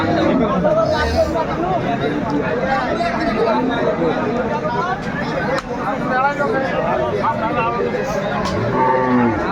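Cattle and large bulls moo repeatedly amid a busy crowd of overlapping voices, a loud, bustling outdoor livestock market scene in Dinajpur.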